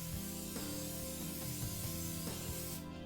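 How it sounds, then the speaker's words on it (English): Dry cooking oil spray hisses onto a large cookie sheet in a few short, close bursts over a low, steady background hum. "Using a large cookie sheet, you want to spray using your dry cooking oil."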